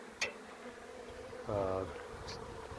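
Honeybees buzzing around the front entrance of a large hive, several brief close passes and a thin hum over quiet outdoor background.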